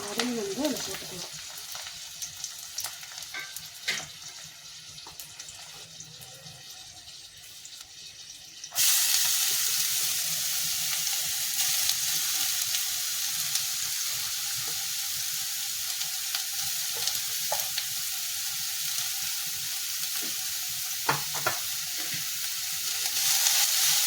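Beetroot and tamarind sautéing in a pan for beetroot chutney. A quieter stretch with scattered scrapes jumps to a loud, continuous hiss of frying, with spatula clatter stirring through it.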